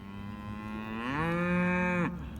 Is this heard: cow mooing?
yes